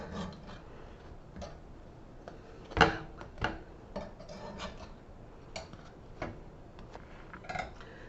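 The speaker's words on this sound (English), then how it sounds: "gotta loosen these out of here, get them out of the pan" Baked cinnamon sugar muffins being loosened from a muffin pan, with faint scraping and rubbing plus a few sharp metallic clicks and taps, close and quiet; no talk.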